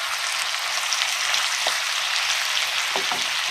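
Chopped garden tomatoes sizzle and fry in a lamb tagine pot, a steady bright hiss filling the whole stretch with a couple of faint clinks from stirring near the end.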